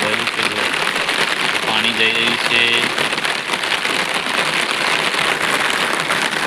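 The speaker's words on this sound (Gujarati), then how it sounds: "વરસાદ પડી રહ્યો છે" Steady heavy rain hisses down near a bridge over the Khari river by a village, loud and continuous, while a voice talks briefly partway through.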